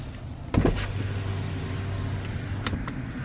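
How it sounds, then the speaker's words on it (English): Power window on a Tesla Model Y lowering, a steady motor whir running for about two and a half seconds after a short clunk, close by inside the car with no talk. "And the windows, Donnie, put your window down."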